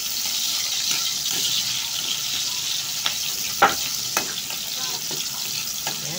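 Chopped garlic and onion sizzle steadily in a hot pan while being stirred, with occasional scraping clicks and clatters from the utensil, loud and close.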